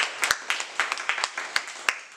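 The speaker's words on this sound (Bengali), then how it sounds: "এর জন্য জোরে একটা হাততালি হবে" A small group claps for a student at a music school: sparse, uneven handclaps in short bursts, fairly quiet and close, with no talking.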